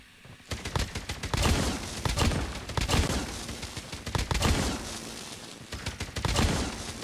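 Bursts of rapid automatic fire from the Oden assault rifle in COD Mobile, loud sustained volleys broken by short pauses, with booming impacts mixed in.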